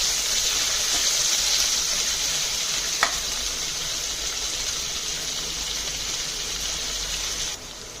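Chicken fries in a pan for chicken Maggi with a steady, loud, close sizzle that runs unbroken, one brief clack of a utensil partway through, and a slight drop in level near the end.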